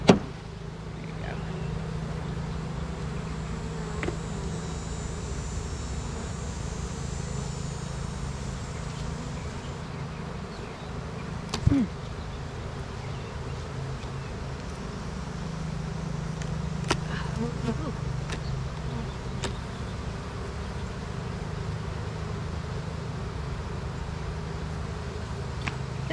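A large honey bee swarm just hived into a box on seven frames buzzes in a steady, continuous drone throughout, with a person speaking quietly over it and a few brief knocks.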